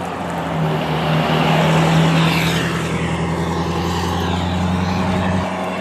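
Cars pass on a street beside someone walking; a loud, continuous engine and tire rush swells and fades over several seconds with a low rumbling undertone.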